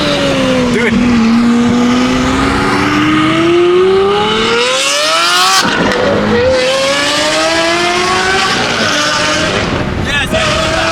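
A BMW G80 M3 revs hard and climbs through its gears, the engine note rising and then dropping sharply at each shift. It is loud and close, with people talking excitedly over it.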